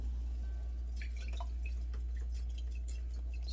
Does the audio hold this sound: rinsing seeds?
yes